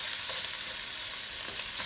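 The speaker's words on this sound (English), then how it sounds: "Let me stir this so we're not going to burn." Sausage sizzles and crackles in a frying pan as it is stirred, a steady close frying hiss with faint scraping, no voices.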